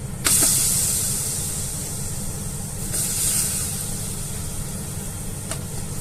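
Steady hissing sizzle of fatty lamb meat frying in its own fat in a pot, continuous and fairly close, with a few brief louder spurts of steam.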